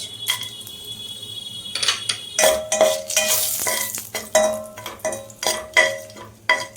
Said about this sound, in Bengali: এবার আমি এখানে ঘির ওপরে 2টো তেজপাতা দিয়ে দেব। তারপরে দিয়ে দেবো এখানে দারচিনি আর এলাচ।